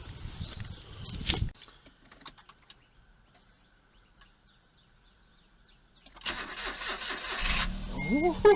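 A 2008 Smart car with its original battery cranks and its engine catches, a brief starter burst early on, then a quiet stretch before the small engine rises into a steady, louder idle near the end.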